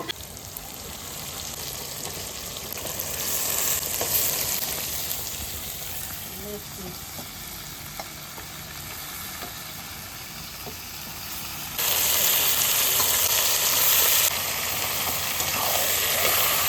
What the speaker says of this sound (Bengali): মাংসটা আমি সুন্দর করে এরকম করে একটু কষাবো, তারপরে মশলাটা দেবো।